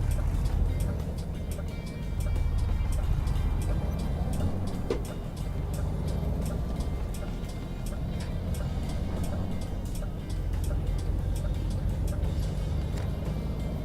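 A turbocharged DAF F241 truck engine runs steadily in Euro Truck Simulator 2, a loud continuous low drone, with a faint regular ticking above it, as the turbo builds.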